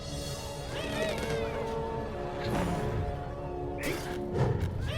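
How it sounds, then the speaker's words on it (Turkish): A cat meows a few times amid background clatter and a couple of knocks, the calls moderately close, with a thump near the end. "bir miyavlama daha geldiğine göre uyanıp evet diyor"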